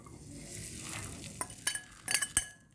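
Purple cabbage batter poured straight onto a hot, oil-free non-stick pan, giving a soft sizzle that builds into a few sharp clinks and scrapes of utensil against pan near the end.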